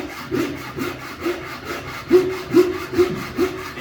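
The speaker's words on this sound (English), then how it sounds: "now I can watch this corner as I progress the cut down." A Japanese hand saw cutting through wood, heard up close as a steady series of rasping push-pull strokes that grow stronger and more rhythmic, roughly two or three strokes per second.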